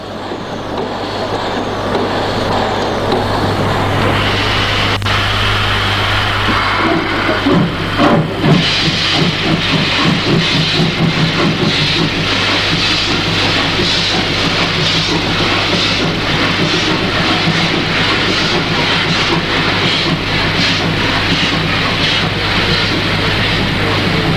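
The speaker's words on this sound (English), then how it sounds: "On the standard gauge at Oschatz, a 5830 moves off light engine." An East German class 58.30 steam locomotive moves off light engine on the standard gauge at Oschatz, giving a steady loud hiss of escaping steam with a low rumble and faint rhythmic chuffing building as it pulls away, with no talk.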